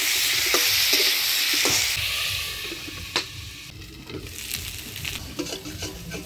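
Potato and cauliflower frying in a covered pan give a steady, close sizzle with occasional sharp ticks and stirring clatter, easing slightly toward the end, no voices.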